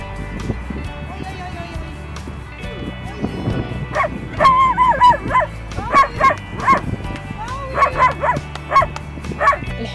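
Stray dogs on the outskirts of Mohammedia, Morocco bark repeatedly in short sharp bursts over the second half, fairly close, with a voice talking underneath and faint background noise.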